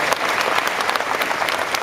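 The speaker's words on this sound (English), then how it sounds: "there's a round of applause" A brief round of applause from an audience at a bodybuilding expo event, dense continuous clapping at moderate distance with no talk over it.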